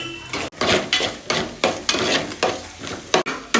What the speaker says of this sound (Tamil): 4 முட்டையும் போட்டு நல்லா கிளற வேண்டியதான்